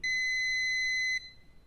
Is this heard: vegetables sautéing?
no